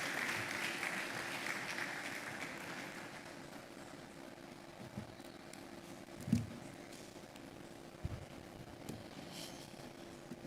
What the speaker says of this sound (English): Please clap until he comes on stage.